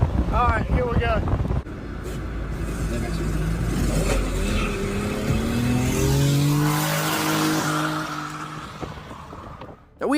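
A car driven down off a truck bed, engine revving and rising in pitch with wind buffeting the microphone, loud and continuous for several seconds after a brief voice at the start.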